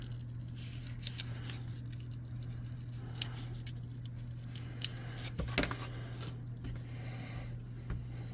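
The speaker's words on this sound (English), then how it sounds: "get some scissors. We're going to kind of round these off a little bit." Scissors snip through craft material while shaping tabletop ruin terrain pieces: a quiet series of short, crisp cuts at an irregular pace, close by, over a steady low hum.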